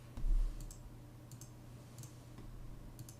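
Someone types on a computer keyboard while building a GUI. A handful of light, sparse key clicks sit over a low steady hum, faint and close.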